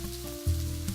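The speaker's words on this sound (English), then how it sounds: "So I'm going to put my shrimp in the pan." Shrimp hit a hot frying pan and sizzle, a soft steady hiss over a low hum, with a brief louder burst as they land, and no voices.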